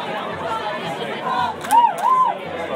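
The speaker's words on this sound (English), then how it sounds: "This crowd has doubled." Counter-protesters at a peaceful Boston rally across from the State House make steady crowd chatter, a dense babble of many voices with one louder voice rising briefly above the murmur.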